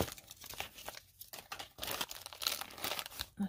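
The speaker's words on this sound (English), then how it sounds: "Let's take them out of their plastic bags so we can see them up close." Crinkly plastic bags rustle and crackle close up as small toy figures are pulled out, in irregular bursts of crumpling and tearing with brief pauses between them.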